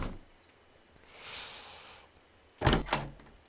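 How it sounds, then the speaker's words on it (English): A door opens in the Second Life video game, a soft whoosh followed by a sharp double thunk of the door moving, quiet and close with no talk. "I just, I like to click on doors."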